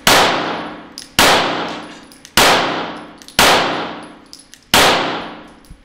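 Five loud, evenly spaced pistol shots from a Glock 48X, each followed by a bright metallic ring from a steel target that decays before the next shot, fired in quick succession at close range.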